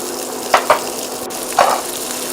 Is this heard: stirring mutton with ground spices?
yes